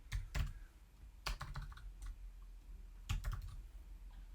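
Close, faint clicking of fingers typing on a computer keyboard, in a few quick bursts of keystrokes separated by short pauses.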